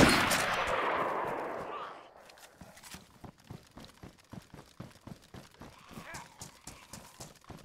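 Sharp percussive shots crack in a DayZ survival game, a dense burst opening the scene, then a rapid irregular series of sharp reports at mid distance, with a voice speaking briefly over them.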